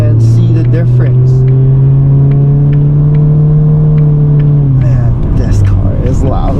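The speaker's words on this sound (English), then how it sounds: "Man, this car is loud." A loud 2019 Honda Civic engine in sport mode hums steadily, its pitch rising slightly before dropping back, close up, with a voice talking over it.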